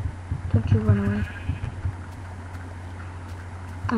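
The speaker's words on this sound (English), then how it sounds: "Should be able to get lamb from the sheep." A sheep bleats a couple of times in Minecraft over a steady low hum, with brief talk around it, then quieter ambient sound.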